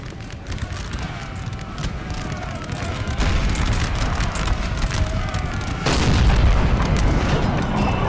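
Artillery fire in a Napoleon Total War battle: dense, rumbling booms and crackling gunfire roll continuously, growing louder around the midpoint and again near the end, with no talk over them.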